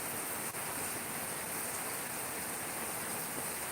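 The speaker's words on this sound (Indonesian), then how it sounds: "Bisa Kak, hujannya lebat sini Kak." Heavy rain pours down as a dense, steady hiss that stays unbroken and even throughout, with no voices.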